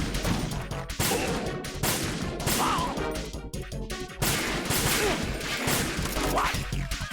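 Bombs going off in Metal Gear Solid 2 amid a dense, chaotic din of crashes and booming bursts that continues almost without a break, loud and close, with no voices.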